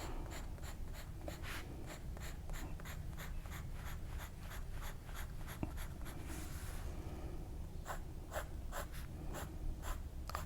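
Pencil crosshatching on paper: fast, repeated scratchy strokes in a steady rhythm, close and continuous, with a brief pause partway through before the strokes resume.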